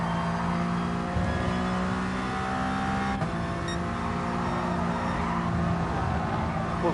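Race car engine in GT Sport accelerating through third gear on a time trial, a loud sustained drone climbing in pitch, with a brief break around a shift, no talk.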